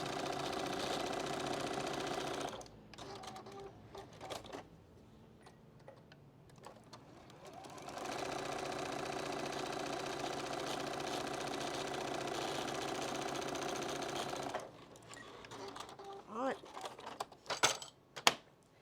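A sewing machine stitches quilt block pieces in steady, close whirring runs, one long burst in the middle and shorter bursts at each end, separated by quieter gaps.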